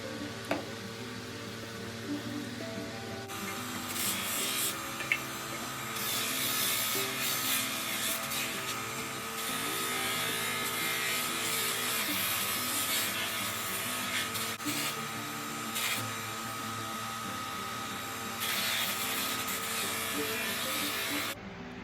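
The handle of a nickel Damascus knife is sanded down after a heavy coat, giving a continuous, even rubbing and grinding sound that runs steadily up close throughout, after a quieter opening few seconds.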